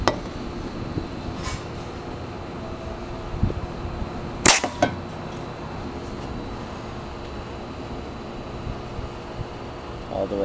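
A homemade air-powered BB gun fires a single BB through a can, giving one sharp crack with a brief metallic ring amid quiet background hum and a few faint clicks.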